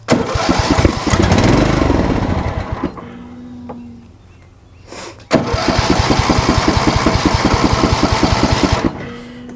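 A John Deere Z225 riding mower engine cranks loudly in two long bursts with a rhythmic chugging pulse, separated by a quieter pause, close to the microphone.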